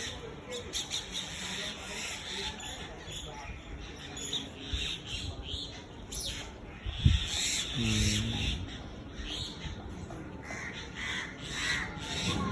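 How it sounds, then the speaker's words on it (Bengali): Several crows caw outdoors near a spot where pigeons are being fed. The calls come from mid-distance over steady ambient bird chatter and background noise. "কাকও এসে গেছে কতগুলো"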